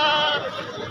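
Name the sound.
goats bleating at a livestock market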